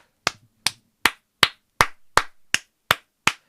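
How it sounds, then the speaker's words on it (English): Nine slow, evenly spaced hand claps, close and crisp with silence between each, from a lone clapper rather than a crowd, greeting actress Jodie Whittaker. "Let's give her a round of applause."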